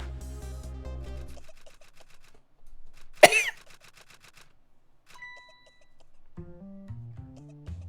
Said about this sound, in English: just listen to that cough